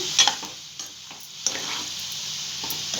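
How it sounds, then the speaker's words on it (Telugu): Rice-flour jaggery milk balls fry in oil over medium heat, giving a steady soft sizzle with a few brief stirring scrapes near the start. "ఇది ఇప్పుడు మీడియంలో పెట్టి వేయించుకుందాం అండి ఇది గోల్డ్ కలర్ వచ్చినంత వరకు వేయించుకుందాం"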